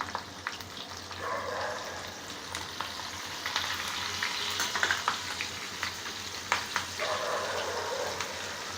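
Cumin seeds, green chillies and a pinch of asafoetida frying in hot oil, giving a steady crackling sizzle that runs throughout with a few sharper pops and stirring sounds.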